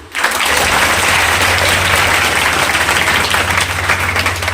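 Audience applause at a Hindi poetry and tribute gathering in Udaipur, a dense, loud wash of many hands clapping steadily throughout, with a low hum beneath.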